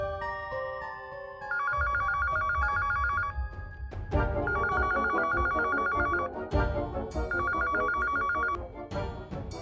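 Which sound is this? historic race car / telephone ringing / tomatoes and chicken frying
telephone ringing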